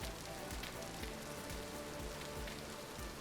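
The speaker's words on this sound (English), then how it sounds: "since it's raining" Steady rain falls in the video game Vintage Story, a dense continuous patter that holds at an even level through the whole stretch with no talk over it.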